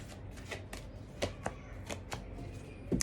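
Oracle cards being shuffled and drawn, giving quiet, close, repeated papery riffles and flicks in an irregular rhythm with no voices.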